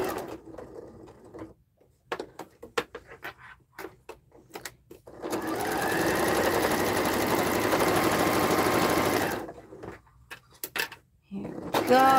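A sewing machine runs in a steady, whirring burst of stitching for several seconds, with clicks and brief speech before and after.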